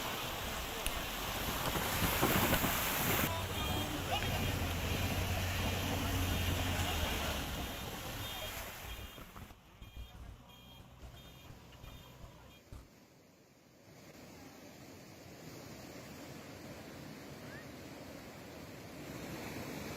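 Fast-flowing floodwater in a river at Uttarkashi, Uttarakhand, makes a broad rushing roar mixed with gusty wind buffeting the microphone. The roar swells and dips over the course of the sound.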